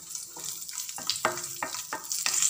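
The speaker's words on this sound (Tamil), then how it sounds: "ஸோ நான் வந்து திராட்சையும் ஆட் பண்ணி நல்லா ஃப்ரை பண்ணிக்கலாம்." Raisins fry in hot ghee in a pan while making semolina payasam, giving a quiet, steady sizzle with a few soft spoon scrapes and taps.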